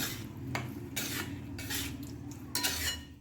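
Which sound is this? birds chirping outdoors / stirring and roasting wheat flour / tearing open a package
stirring and roasting wheat flour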